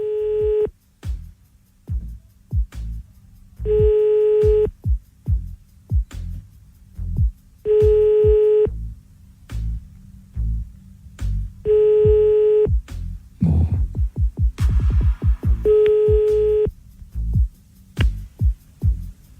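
A telephone call is redialed and rings unanswered: a string of steady repeating ring tones in even bursts, with a short flurry of dialing and line clicks partway through.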